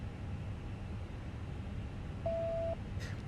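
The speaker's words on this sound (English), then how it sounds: "Hopefully everyone heard that nice little lovely beep." A cockpit voice recorder test beep in a Fenix A319 flight simulator: one steady electronic tone lasting about half a second, clearly heard over constant low cockpit hum.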